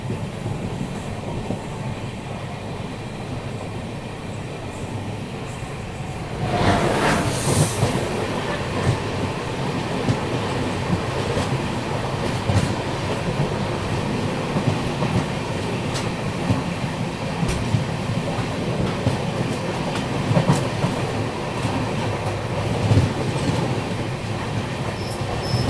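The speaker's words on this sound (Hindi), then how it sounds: "अभी देखो सामने से आ रही है ताप्ती गंगा एक्सप्रेस" Tapti Ganga Express from Thawe to Surat passing in the opposite direction, heard from aboard another train: a sudden loud whoosh as it meets, then sustained close rumble and clatter of wheels on track.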